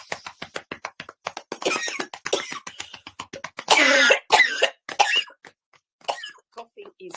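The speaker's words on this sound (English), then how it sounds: "Coughing is good" Repeated coughing and throat clearing, a long run of short bursts with a few heavier, louder coughs in the middle, close up.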